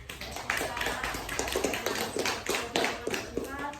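A group of students claps together in an irregular patter of close, sharp slaps during a classroom group guidance session, with voices audible underneath.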